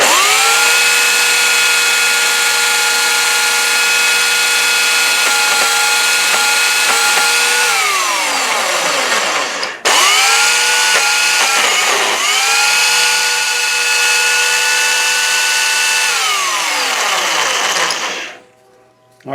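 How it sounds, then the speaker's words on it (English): A worn belt sander with nearly gone bushings whines loudly and steadily up close while working on a cherry and maple picture frame, with strong tonal harmonics that sag and recover under load, a brief cutoff near the middle, then winding down at the end. "Let me get the belt sander. That'll work. All right, well, here's the belt sander."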